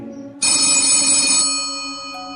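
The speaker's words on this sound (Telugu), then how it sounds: "అదే సమయంలో పిజ్జా షాప్లోని ఫోన్ మోగింది" A telephone rings in a pizza shop around 1 a.m. The electronic ring starts abruptly, holds loud and steady, and then fades slightly toward the end. No voices are heard.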